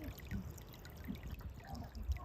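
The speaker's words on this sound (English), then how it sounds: "There's a small trickle running down, pools gathering every so often." A small stream trickles and pours beside a forest path, a soft continuous watery burble heard up close with no voices.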